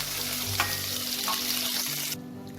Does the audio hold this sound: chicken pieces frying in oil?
yes